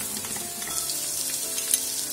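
Onions and vegetables fry in a pan for Moroccan lentil soup, giving a steady close sizzle with a faint clink of stirring near the end and no voices.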